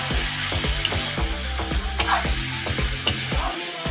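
Chicken curry being stirred in a cooking pan, with rhythmic scraping and clacking strokes repeating over a constant frying sizzle, close and fairly loud.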